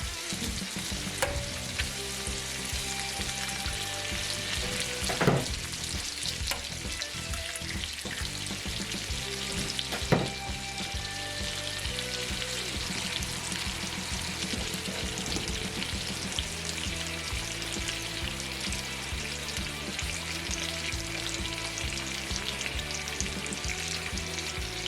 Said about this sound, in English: I also do like frying my eggs in butter